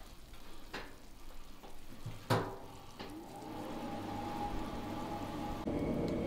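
Stewed donkey bones are tossed back into a wok with salt, a few sharp metallic knocks of the spatula over a rising, steady sizzle.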